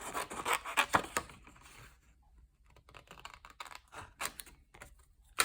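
Paper card greeting being trimmed by hand for a craft project, giving a run of close, dry cutting and rubbing strokes, busy at first and then sparser with quiet gaps.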